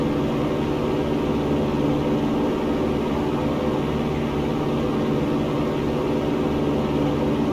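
Simulated light aircraft engine at takeoff power and climbing out in a flight simulator over Washington State: a steady, loud, unbroken drone with broadband roar and no voices.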